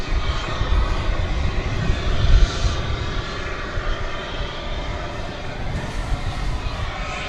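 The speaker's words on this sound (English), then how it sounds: "It's a 7878 Dreamliner." American Flight 13, a Boeing 787-8 Dreamliner, passes over a bridge near DFW Airport at night, its jet engines giving a steady broad roar that swells slightly early on and holds loud throughout.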